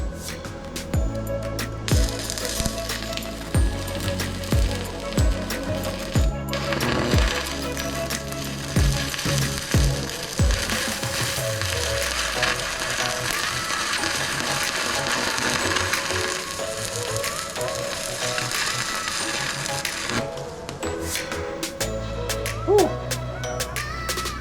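Stick welding with a YesWelder FIRSTESS MP200 multi-process welder makes a continuous crackling, hissing arc for about twenty seconds, with a few clicks and knocks at the start and end.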